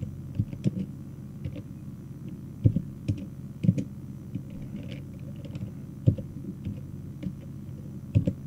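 Irregular typing on a computer keyboard while HTML code is written, scattered key clicks over a low steady room hum, moderately close with no talking.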